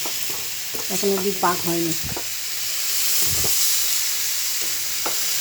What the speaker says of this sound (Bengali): আঁচটাকে জোর করে সমান নিয়ে নাড়তে হবে